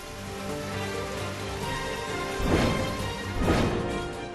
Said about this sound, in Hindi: दिल्ली से सटे गाजियाबाद और नोएडा में भी बादल जमकर बरसे।